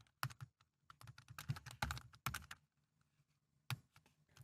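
Quiet typing on a computer keyboard while editing a README file, an irregular run of close, light key clicks with brief pauses and a final isolated tap.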